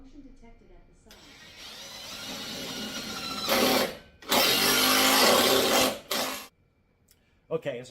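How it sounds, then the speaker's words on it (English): An impact gun drives bolts into a wall joist while a pull-up bar is mounted, with loud whirring bursts that start and stop several times, the longest lasting a couple of seconds, between quieter gaps. "Okay, as I started drilling, I realized that it's really loud"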